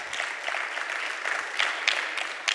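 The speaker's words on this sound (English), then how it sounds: "Can we have another round of applause" Audience applause after a speech by Dr. Ebraham Asmal, a steady, moderately distant patter of many hands clapping with a few sharper claps near the end, no voices over it.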